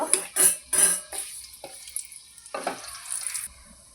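Whole spices (bay leaf, cloves, cardamom, cinnamon and two dried red chillies) fry in hot oil in a pan for biryani. Soft sizzling is broken by a few sharp clinks and scrapes of a spoon stirring against the metal pan.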